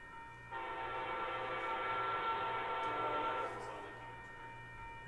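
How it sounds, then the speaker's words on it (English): An Amtrak Siemens Charger locomotive sounds one sustained chord on its horn for about three seconds, heard from a distance over a faint low rumble before fading out. "it's the horns that they use on those Siemens chargers"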